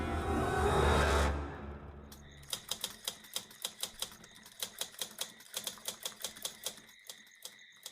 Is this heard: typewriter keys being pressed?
yes